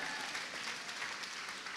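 A church congregation claps hands during an evening service, a dense, continuous burst of applause that is fairly loud and steady, with no voices standing out.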